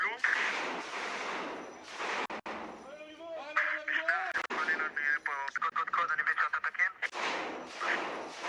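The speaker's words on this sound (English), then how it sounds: "It seems like someone's shooting at them" Gunfire in combat footage of an IDF Commando Brigade unit fighting in Khan Younis: loud, sharp bursts and scattered shots in a rough, irregular rhythm, with raised voices shouting in between.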